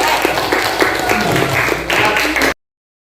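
Audience applause for a religious teacher during a classroom session, a room of people clapping for about two and a half seconds before it cuts off abruptly.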